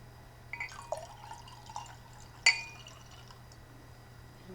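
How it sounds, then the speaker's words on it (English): Wine from Paso Robles is poured into a glass close up. Soft, quiet trickles and drips are capped by one clear glass clink in an otherwise hushed room. "I am going to pour myself a glass"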